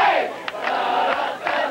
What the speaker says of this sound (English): Perhaps it was the heat generated by a vocal crowd.